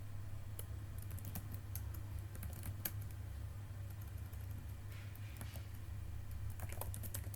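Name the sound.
typing a password on a computer keyboard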